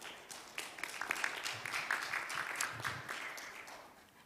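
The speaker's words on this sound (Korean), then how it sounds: "큰 박수로 맞이해 주시기 바라겠습니다." Applause from a conference audience at a Korean international forum session, a steady patter of many hands clapping at moderate volume for about four seconds, swelling slightly in the middle before thinning out.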